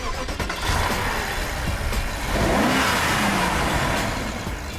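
The beefy 4.4-litre twin-turbo V8 of a BMW 6 Series revs up, a close, loud engine whose pitch climbs steadily as it accelerates.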